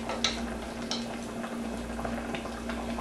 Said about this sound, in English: It's still sizzling, bubbling.